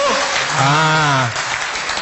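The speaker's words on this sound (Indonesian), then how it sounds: "Tepuk tangan untuk kita semuanya." An audience applauds at an Indonesian gathering, a steady wash of clapping that lasts the full two seconds under a loud, drawn-out voice in the foreground.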